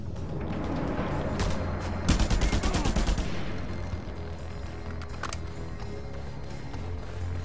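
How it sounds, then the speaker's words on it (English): Gunfire in the video game Just Cause 2 aimed at the player: a sustained rattling burst of rapid automatic shots in the middle, with a few scattered single cracks before and after over a steady loud background of game noise. "Who the heck is shooting me?"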